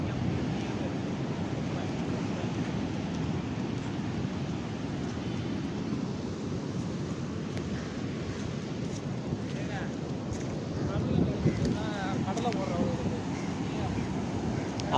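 Steady roar of surf and gusting wind across the microphone on a Kerala beach, with people talking intermittently underneath.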